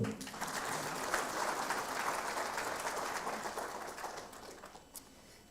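An audience at a 2024 examination results announcement applauds steadily, a dense wash of clapping that slowly fades out.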